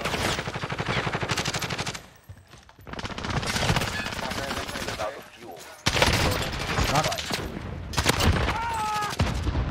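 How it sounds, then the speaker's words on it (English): Rapid automatic gunfire bursts in Call of Duty Warzone, with a loud burst of shots, a short lull, then sustained continuous shooting under several players talking. "Someone shooting to the left."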